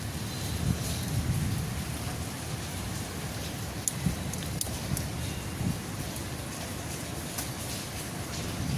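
Rain falls steadily on potted plants in a rooftop garden, a dense, even patter of drops with a few sharper spattering hits scattered through, heard alone and up close.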